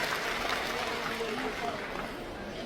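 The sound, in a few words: applause for Brilian Bisnis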